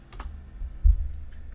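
A few quick keystrokes on a computer keyboard while searching for an app in an Android emulator on Windows, close and clicky, ending in a heavier thump.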